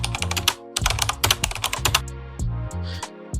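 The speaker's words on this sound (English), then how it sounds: "I'm going to be using typing" Keyboard typing effect added in a CapCut edit: quick bursts of crisp, close key clicks in an uneven rhythm, with short pauses between runs.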